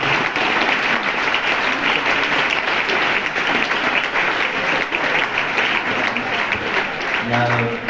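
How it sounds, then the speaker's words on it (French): Audience applause in a Paris cinema for producer Nicolas Duval at a film presentation, a loud, steady wash of many hands clapping throughout, with a brief voice breaking through near the end. "je voudrais vraiment qu'il ait vos applaudissements parce qu'il est essentiel, c'est Nicolas Duval"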